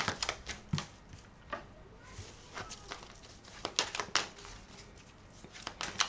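Tarot cards are laid out on a surface in a series of soft, close slaps and shuffling flicks, irregular and quiet, with a voice speaking faintly at moments.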